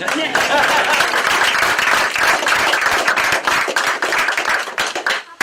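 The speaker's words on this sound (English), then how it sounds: "That's when you can applaud, guys." A crowd at a library grand opening claps loudly and continuously, many hands in a thick, close patter that holds steady before tapering at the end; some voices mix in.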